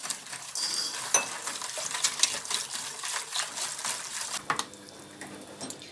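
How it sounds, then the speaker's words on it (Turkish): Homemade cake batter with milk and sugar being stirred in a bowl, a spoon scraping and clinking against the sides in quick, uneven strokes, close and fairly loud, easing off near the end. "Evet iyice karıştırıyoruz"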